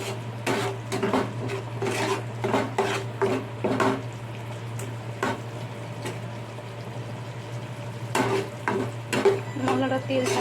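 Spices with turmeric and chilli powder frying in oil for khichuri, stirred with a spoon: repeated scraping strokes against the pan over a steady sizzle, close and fairly loud, with a low hum underneath.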